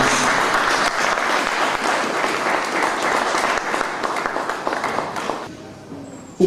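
An audience at a book launch applauds in sustained, dense clapping for several seconds, then the applause fades out into near quiet.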